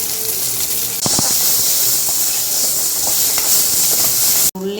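Onion and okra sautéing in a pan for aloo bhindi, a loud steady hiss and sizzle with occasional stirring clinks, close up, cutting off abruptly near the end.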